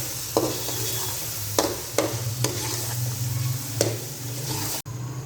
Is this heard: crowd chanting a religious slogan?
no